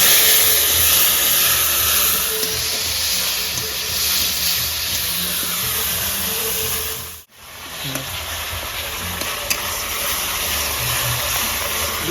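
Spices with chili powder, tomato, ginger and garlic in a pan for a home-style fish and lentil curry fry after water is poured in, giving loud continuous sizzling and hissing with one brief dip partway through.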